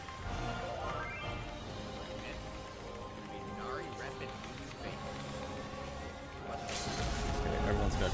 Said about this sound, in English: this is the sound of me spamming my shield and pot.